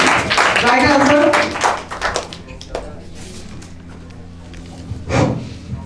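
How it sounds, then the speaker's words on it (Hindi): A quiz audience claps for a correct answer, a loud burst of clapping mixed with voices early on that fades quickly, followed by a few scattered taps and thuds and one more short clap. "एक बार जोरदार तालियां बजाइए।"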